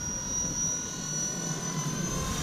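A Blade 230 RC helicopter flying nearby, its rotor and motor giving a steady high-pitched whine with a constant buzzing drone that holds level throughout.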